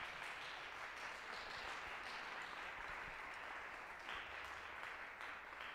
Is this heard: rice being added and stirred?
no